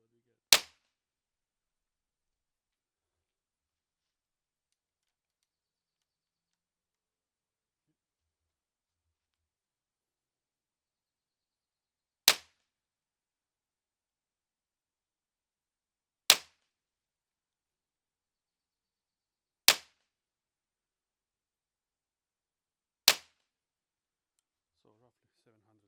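Five sharp, loud cracks from a Huben K1 .25 caliber air pistol fired without a suppressor: one shot, a long silence, then four more spaced a few seconds apart, each standing alone against a quiet background.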